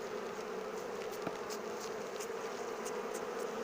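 Honeybees swarm around an open hive, making a steady, dense buzz that holds close and even throughout, with a few brighter passes of individual bees and no voices.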